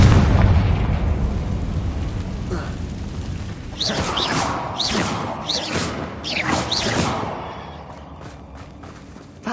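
A Confringo blasting spell explodes in the video game Hogwarts Legacy, a heavy, rumbling boom that lingers as a crashing roar, with game voices and sounds rising over it partway through.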